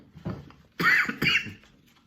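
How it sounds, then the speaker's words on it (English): A person coughs twice in quick succession, loud and close, after a softer throat sound at the start. "cough won't go by"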